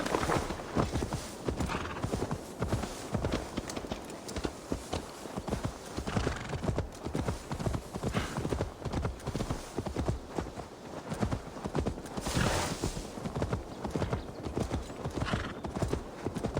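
A horse in Assassin's Creed Valhalla runs with steady, fast clip-clopping hoofbeats for over fifteen seconds, and a whinny rises occasionally above the hooves.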